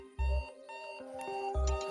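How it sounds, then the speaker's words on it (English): A soft morning alarm chimes with gentle tonal beeps, sounding in two short bursts with a pause between them, quiet and close in an otherwise still room. "As an alarm sounds out."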